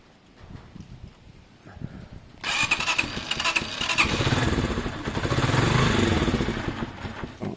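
A Honda CB250 motorcycle engine cranks and catches after a short quiet stretch of small handling noises, then settles into a loud, steady, close idle that swells slightly toward the end.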